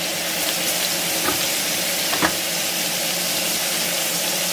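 Sliced red onion frying in a cast iron skillet, a loud, steady close sizzle with a couple of faint stirring scrapes.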